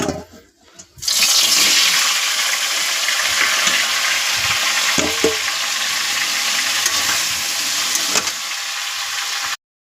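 Cabbage drops into hot oil in a kadai and bursts into loud, steady sizzling frying, with a few soft stirring clatters, until it cuts off near the end.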